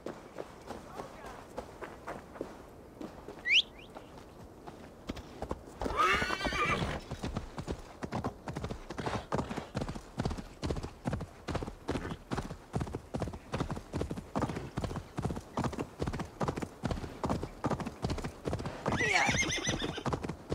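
In the video game Assassin's Creed Valhalla, a horse gallops with a fast, steady clip-clop of hooves for most of the stretch. Two shrill neighs ring out, one early and one near the end.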